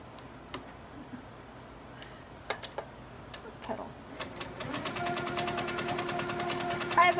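After scattered clicks and handling taps, a sewing machine starts up partway through and runs steadily while quilting a table runner, close by and moderately loud, with a voice faintly present early on.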